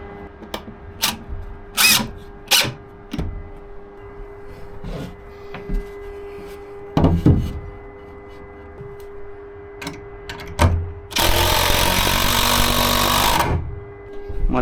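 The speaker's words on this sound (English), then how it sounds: "drill them in, pull them out and drill those in, and we're done" A drill drives self-tapping deck screws into timber on a treehouse build, short whirring bursts repeated several times, then one longer sustained run near the end, close and fairly loud with little talk.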